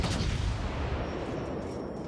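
Warship artillery fires in the video game World of Warships with a heavy, booming blast at the start that rolls off into a dense, rumbling decay with no talk.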